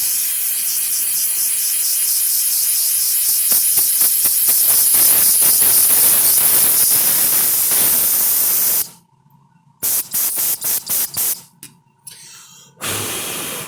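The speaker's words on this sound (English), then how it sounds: "And one last spritz off with some brake clean." Brake cleaner sprays in a long, loud continuous hiss over a fuel bowl on an IH B275 tractor, then breaks into short bursts and spritzes with brief gaps before a final spray.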